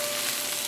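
Green peas and tomatoes sizzling as they fry in a pan, a brief burst of steady hissing sizzle with faint stirring.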